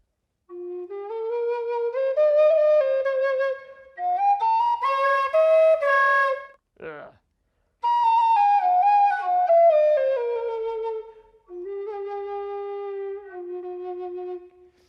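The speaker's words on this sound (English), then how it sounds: "I've also made an F whistle." A breathy homemade F penny whistle, made from a clothes rail, plays a simple melody in clear, separate phrases, each note slightly airy, with a couple of short pauses between runs.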